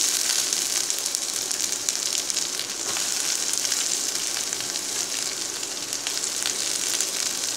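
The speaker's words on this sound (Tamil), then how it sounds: "வெந்தயம் போட்டா நல்லா பொரியட்டும் நல்லா பொரிஞ்சாச்சு" Fenugreek seeds frying in hot oil for a tamarind fish curry, a loud continuous crackling sizzle with dense fine popping, steady throughout with no speech.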